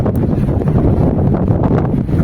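Strong wind gusting along an outdoor mountain trail, a loud, constant rumbling buffet against the microphone that fills the whole moment with no talking.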